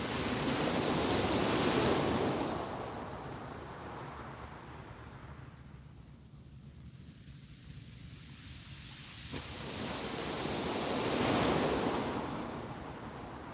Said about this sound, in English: The waves are nearly there.